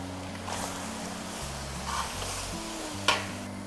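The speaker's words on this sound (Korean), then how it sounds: "손질된 닭고기를 넣어 보도록 하겠습니다" Prepared chicken pieces for a Korean braised chicken and potato dish going into a pot of boiling water, a steady bubbling sizzle with a sharp splash or clatter near the end, close and moderately loud.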